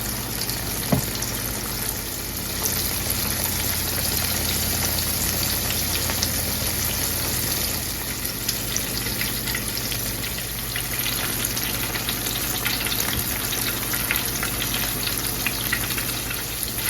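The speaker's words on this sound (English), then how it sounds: "put this fish in, and we're going to get to frying" Steady, crackling sizzle of mustard-coated fish frying in hot oil in a skillet, continuous and close, with a few faint clinks.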